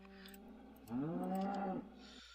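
A single long moo from a cow in a video game, loud and close, with a harmonic tone that rises and then falls, and a faint tonal hum before and after it.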